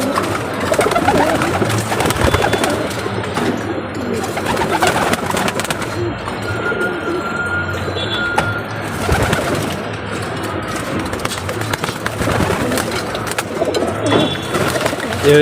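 Pigeons coo steadily and close by as they are hand-watered at a home loft, with overlapping throaty calls and bird chatter continuing throughout.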